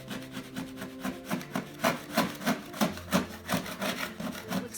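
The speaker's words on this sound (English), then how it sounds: "essentially removing some of the old glue and" Rhythmic back-and-forth scraping as old glue and felt are worked off a wooden floor, about a dozen even strokes roughly every third of a second, close and fairly loud, with no talk.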